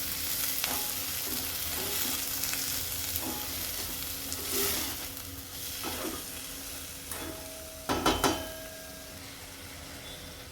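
Spinach filling for palak paneer paratha cooks on a low gas flame, sizzling steadily in the pan with intermittent stirring scrapes and a cluster of sharper clanks near the end.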